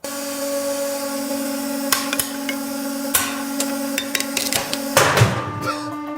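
In a car-crusher video game mod, a hydraulic knife cuts into a car over a steady mechanical hum, with a series of sharp metallic clanks and impacts building to a louder burst as the car explodes.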